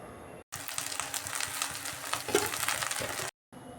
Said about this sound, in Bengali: এভাবে সব ধুন্দুলগুলো আমি কড়াইয়ের মধ্যে দিয়ে দিলাম